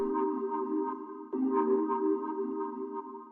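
A minimal house synth tone with subtle vibrato warble, sustained and steady with a slight wavering pitch, restruck once midway, close and alone without voices.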